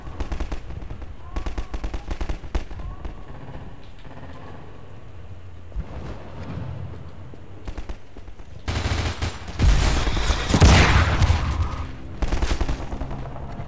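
Rockets and gunfire in Half-Life 2: rapid bursts of shots crackle in the background, then a loud, booming rocket explosion rumbles in the middle distance before fading into scattered fire.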